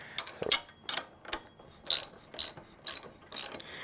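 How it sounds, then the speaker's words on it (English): A socket wrench ratchets as it tightens the front wheel nut of an MBK-1 mini bike, giving a series of crisp, evenly spaced clicking bursts, close and clear. "we're just going to use a 14 millimeter socket and a 17 millimeter wrench, and we're just going to tighten up the wheel here"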